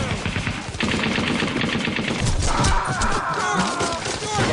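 Rapid machine gun fire in the World War II shooter Brothers in Arms: Road to Hill 30, sustained bursts with scattered battle noise and shouting voices over the top.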